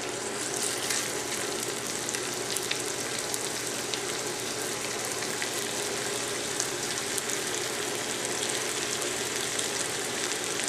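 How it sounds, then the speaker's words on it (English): Stewed meat searing in hot oil for carne guisada, a steady, even sizzle and crackle that holds throughout, close and without talk. "Let's place the stewed meat in heated oil and brown thoroughly, turning the meat to sear on all sides."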